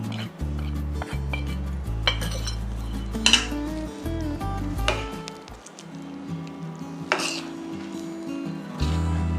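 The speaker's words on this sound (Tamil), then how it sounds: "போட்டு நல்லா மிக்ஸ் பண்ணுங்கள்" Masala powder being stirred into bisibelebath in a cooking pot, with repeated clinks and scrapes of a spoon against the metal pot, close and fairly loud, in an uneven rhythm over several seconds.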